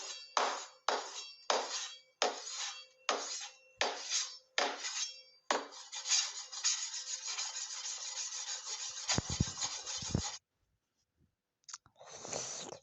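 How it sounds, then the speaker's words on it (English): An iPhone being sawed: a run of short, regular rasping strokes, then a continuous grinding scrape that stops abruptly, followed by a brief silence and a last short scrape. "Bro's trying to saw an iPhone."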